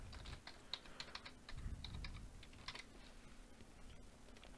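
Username and password being typed on a computer keyboard, soft close key clicks in short irregular bursts over a quiet background.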